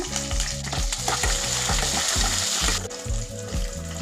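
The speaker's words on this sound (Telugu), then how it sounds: "వీటినన్నిటిని బాగా ఫ్రై చేసుకోవాలి." Curry leaves and finely chopped green chillies fry in hot oil in a pan for lemon pulihora, giving a steady, close sizzle under continuous background music.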